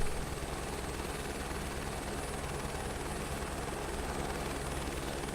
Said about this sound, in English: Still trying to figure out this helicopter